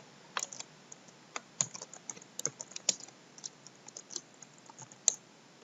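Quiet, close typing on a computer keyboard while entering a Windows 7 registry value, an uneven run of light key clicks with a few sharper taps and no talk.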